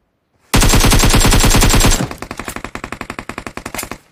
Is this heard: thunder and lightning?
no